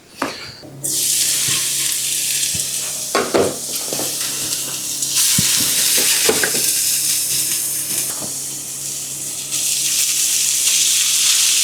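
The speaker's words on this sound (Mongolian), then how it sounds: "Одоо бүгдээрээ шарцгаая." Ingredients for tteok galbi sauce fry in a hot pan, a loud, steady sizzle that swells in bursts as food is added, with occasional scrapes and clinks of stirring and no talking.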